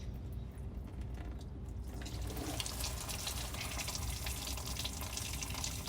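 Hot coolant drains from the radiator of a BMW E36, starting softly and then swelling into a steady, trickling rush of liquid that continues evenly, quiet overall and with no voices.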